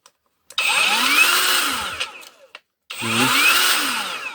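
A Razor angle grinder runs in two loud, close bursts, each whining up in pitch as it spins up, separated by a short silent gap and a few brief clicks.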